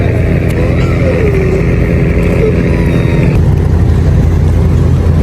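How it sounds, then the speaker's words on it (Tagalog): Steady roar of road traffic, motorcycles and 4x4s along with other four-wheel vehicles, at a boat terminal for trips to an island, a constant loud engine drone with one motor whining higher as it passes, then fading into the general rumble. "May mga motor, may 4x4, may mga 4 wheels."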